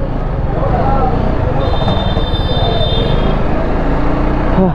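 Steady rumbling rail noise with a faint high squeal partway through, busy and constant, like a train moving through a station, with voices mixed in.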